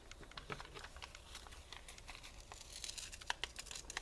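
Paper being cut out around a printed cutout figure, with close crisp crinkling and snipping ticks scattered irregularly across a quiet background, no voices.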